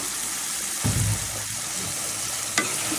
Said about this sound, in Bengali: দিয়ে দিলাম আদা রসুন, একসাথে পেঁয়াজের সাথে ভেজে নিব।